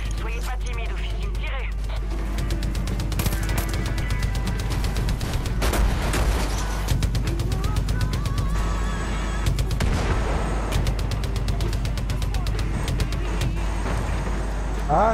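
Mounted guns firing from the Widowmaker vehicle in Far Cry 5, rapid bursts of gunfire mixed with engine rumble and explosions through the clip, with people talking over the action.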